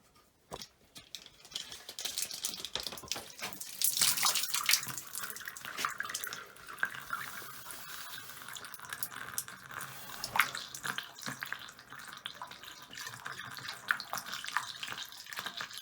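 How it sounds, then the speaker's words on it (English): Water runs from a tap into a toilet tank at a lodge being opened for the season, a steady splashing and trickling stream that starts after a brief quiet and stays close and continuous. "You can also hear it going into the tank."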